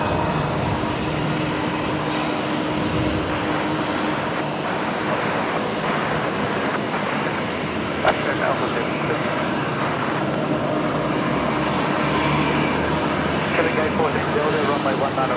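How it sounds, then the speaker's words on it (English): A Qantas airliner's engines roar loud and steady as it touches down at Brisbane Airport at night, a continuous wash of jet noise that fills the whole stretch, with a voice talking over it. "Qantas 126 about to touch down on the other side"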